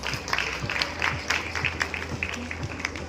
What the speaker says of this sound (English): Can we have a huge round of applause for them, please?